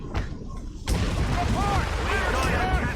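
Ship cannon fire in Assassin's Creed Rogue, a sudden loud boom at about the one-second mark giving way to sustained rumbling battle noise, with shouting voices and ringing tones layered over it.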